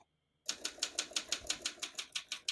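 Typing on a 1963 Olympia SM7 portable typewriter, a quick run of about a dozen crisp, evenly spaced key strikes close up, starting after a moment of silence.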